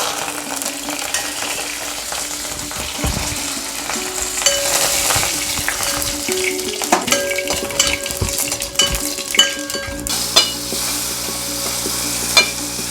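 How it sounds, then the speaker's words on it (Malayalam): Mustard seeds, curry leaves and chillies fry in hot oil for a Kerala bitter gourd and mango curry, giving a steady loud sizzle and crackle with sharp pops and occasional utensil clinks and stirring. "ഇനി വറുത്തിടാൻ കടുകും കറിവേപ്പിലയും മുളകും."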